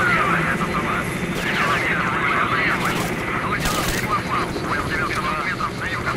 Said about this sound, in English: Please, helicopters. Leave me alone.